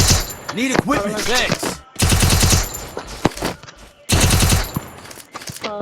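Rapid automatic gunfire in the video game Counter-Strike, loud bursts of rattling shots in three clusters separated by brief pauses, with a voice talking over parts of it.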